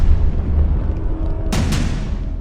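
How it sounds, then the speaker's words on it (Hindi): Israeli airstrike explosion in Gaza, a deep continuous low rumble with a heavy boom at the start, followed by two sharp cracking bursts in quick succession near the end, fairly loud and without speech. "इजराइल ने दूसरा ब्लास्ट किया,"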